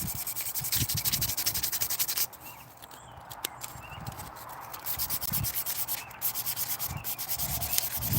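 Sandpaper rubs by hand over a wooden natural-fork slingshot to smooth out file marks, giving rapid rhythmic scratchy strokes up close, with a short pause partway before the sanding resumes.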